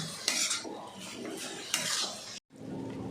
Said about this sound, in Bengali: মাংসের টুকরোটা দিয়ে 2 থেকে 3 মিনিট ভালো করে একটু কষিয়ে নিতে হবে, গ্যাসের ফ্লেমটা মিডিয়ামে রেখে